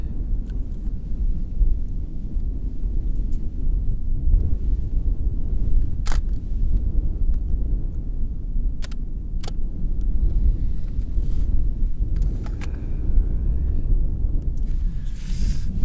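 Wind blows steadily outdoors as a loud, continuous low rumble and buffeting, with a few sharp camera-shutter clicks and faint rustles on top.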